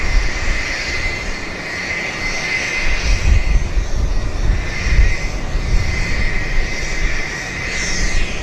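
An airliner on a charter flight carrying miners north from Vancouver hums with a loud, steady engine drone and a high whine that swells and fades slightly, with no talk.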